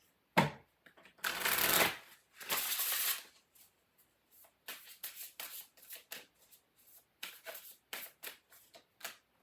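Oracle cards shuffled by hand during a tarot reading: a couple of long riffling bursts followed by a run of short, crisp flicks and taps, close and quiet, no talk.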